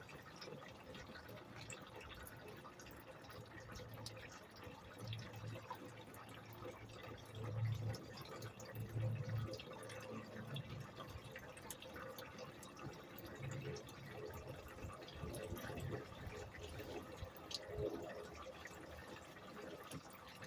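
Water is poured through filters into a bucket, giving a faint, continuous trickle and dripping with occasional splashes, quiet and steady throughout with no talk.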